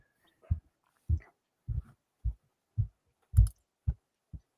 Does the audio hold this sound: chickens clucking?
no